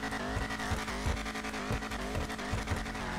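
Vapid Dominator ASP muscle car engine in GTA Online, a loud continuous revving roar with rhythmic throttle pulses and some tire squeal, steady and close with no talking.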